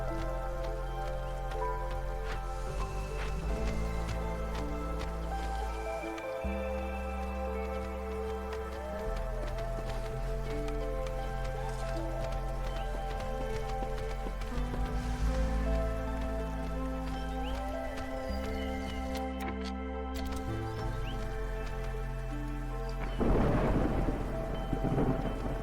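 Steady rain pours through a thunderstorm on a marshland in the video game Against the Storm, with low thunder rumbling continuously beneath it, a louder crack near the end, and game music tones layered on top.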